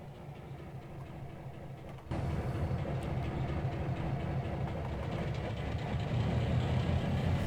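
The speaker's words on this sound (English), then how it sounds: "Their Alco engine sounds are quite nice." An Alco diesel locomotive engine in the Trainz 2022 train simulator rumbles and idles, then steps up abruptly to a louder, heavier throb with rail clatter, steady and close.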